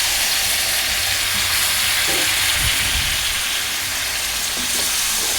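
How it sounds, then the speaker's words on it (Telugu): Chopped tomatoes frying in a pan for a tomato egg curry, added over browned tempering spices, give a steady, loud, close sizzle with a few soft stirring scrapes and no voices. "టమాటాలు కూడా బాగా వేయించుకోవాలన్నమాట"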